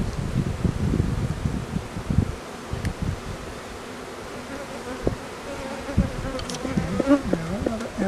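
Honey bees buzz around the frames of an open beehive in a steady, close swarm hum. The hum holds for the whole stretch, with some low rustling early on and a few wavering, higher-pitched buzzes near the end.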